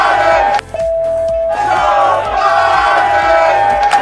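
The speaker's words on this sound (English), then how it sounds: "as you can hear the chants from the crowd" A large crowd chants in steady rhythm at a political rally, loud and continuous, with a brief lull early on and a faint tone running beneath.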